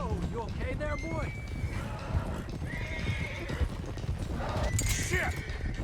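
Horses gallop with steady clip-clop hoofbeats and repeated neighs and whinnies in the Red Dead Redemption 2 video game, continuous and mid-distance, with a voice talking over them.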